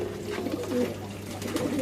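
Pigeons kept in a home loft coo softly in short, repeated bursts over a steady low background hum.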